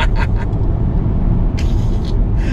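A Volvo C40 Recharge electric car, running on studded tires with all-wheel drive, pulls hard on a slippery snowy road, giving a steady, loud rumble of tire and road noise and a faint high whine.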